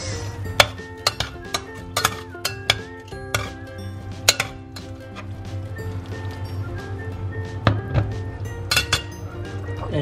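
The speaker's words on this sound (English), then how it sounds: "Give it a quick mix." Utensil clinking and scraping against a pan while shakshuka tomato sauce with sugar is stirred quickly, a series of sharp metallic taps over a steady low hum.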